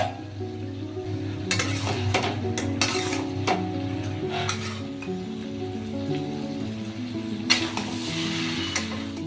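Five or six cloves of chopped garlic fry in a pan with a vegetable fry, giving a steady close sizzle with repeated scraping strokes of the spatula against the metal.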